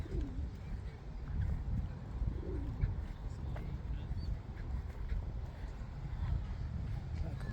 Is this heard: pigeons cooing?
yes